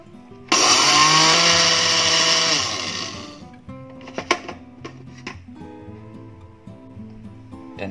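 An electric kitchen blender grinds sesame seeds with a loud, steady, high-pitched whir for about three seconds, then winds down, followed by scattered clinks and knocks of the jar and lid.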